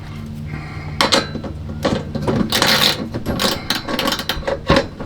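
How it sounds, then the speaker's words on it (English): A ratchet tightens bolts on angle iron during an RV gray tank install in a box truck camper, giving bursts of rapid clicking and metallic clanks at close range, with no talk. "Now I can put these bolts back in here, tighten it up again, and use it to bolt in this angle iron."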